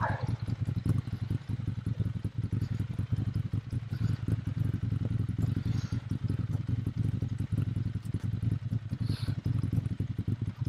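Ducati Monster 796 motorcycle engine running warm, a steady mid-pitched throb with rapid clattering pulses, continuous and close throughout.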